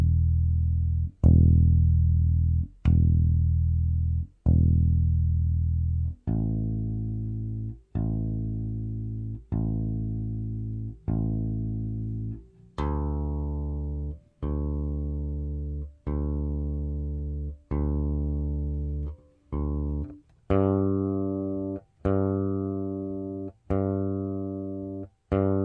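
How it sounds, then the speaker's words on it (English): A Sterling Stingray short-scale bass strung with flatwound strings plays single open-string notes, each plucked note booming low and decaying before the next, in a slow, even sequence heard alone. "So this is just some open string."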